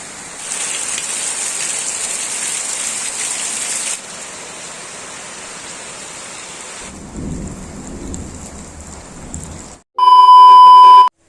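Heavy rain drums on an asbestos rooftop room as a steady, dense hiss that then thins and eases, followed by a few sharp electronic beeps at the very end.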